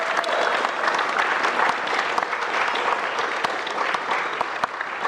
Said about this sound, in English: Let's give yourselves a huge round of applause for working all these puzzles today.